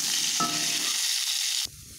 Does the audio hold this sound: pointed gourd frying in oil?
yes